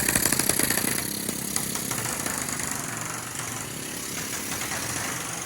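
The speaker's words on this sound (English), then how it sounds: "Today the guys are sanding the inside laminate to roughen it up." Power sanding on the inside laminate of boat deck hatch skins from a Mako, a steady loud motorized whir with gritty rasping throughout, no talk.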